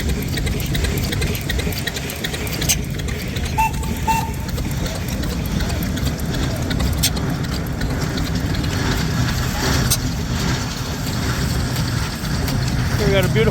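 A 2-cylinder standard gas engine idles at a classic engine show, a steady low rumbling drone with light clattering ticks, constant and fairly loud, with a person talking over it.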